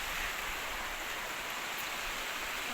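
A fast, swollen mountain river in Uttarakhand swollen by rain rushes as a steady, dense roar of water, loud and close, with no one speaking.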